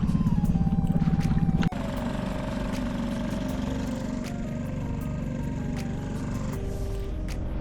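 Small outboard motor on a dinghy crossing the Schlei, a steady mid-pitched engine drone that stays loud and continuous throughout, with a slight change in tone partway through.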